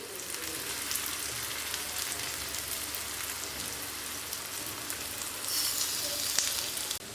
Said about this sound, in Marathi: आपण हे सगळे कापे छान तेलावर सोडून घेणार आहोत